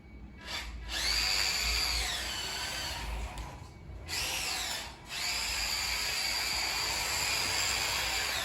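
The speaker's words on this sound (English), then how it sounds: "that wheel's been rubbing a while" An Acura/Honda NSX tire rubs against the wheel well while the car drifts, giving a high, whining screech that rises and falls in long stretches and is broken by short gaps.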